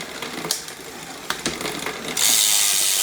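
Trek mountain bike rear derailleur rattling from a misadjusted H limit screw: close, continuous ratcheting clicks and chain chatter with a few sharp ticks, then a sudden louder whirring hiss as the drivetrain spins faster.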